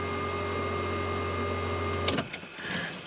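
A car fuel pump on normal control hums steadily at a constant pitch for about two seconds, then cuts off, leaving brief clicks and faint rustling.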